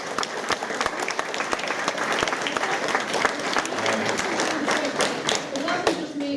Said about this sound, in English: I think a big round of applause for Woolley.